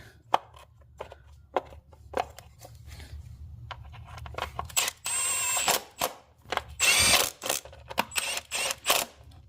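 A power drill screws down an ignition coil bolt on a Dodge engine with a misfire problem, with short whirring bursts, clicks and ratcheting, growing louder toward the end, close by and without talk.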